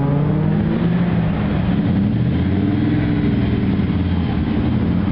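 Car engine revving under gentle throttle, a steady low rumbling hum with slight rises in pitch, close and continuous for a few seconds without speech.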